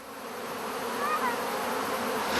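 Chinese honeybees buzz close by in a steady, dense drone, a continuous insect hum that swells slightly in loudness, with no talking.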